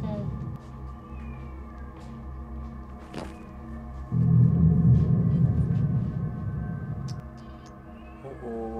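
A cat gives intermittent meows in a quiet indoor space, with a low rumbling hum swelling midway and a faint thump.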